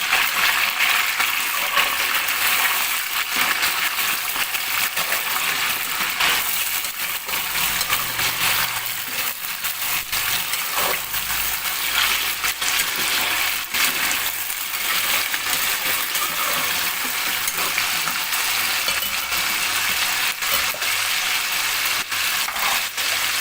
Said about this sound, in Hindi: तो इसमें अब मैं चिकन डाल रही हूँ, क्योंकि हमने चिकन इसमें फ्राई करना है।